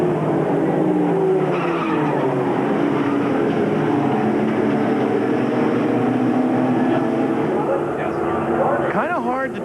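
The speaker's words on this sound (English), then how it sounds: "This car going into the wall." A stock race car at an ASA series race on an oval speedway slides and hits the wall. Loud, continuous engine and crowd noise sits under commentary, with a squealing skid near the end.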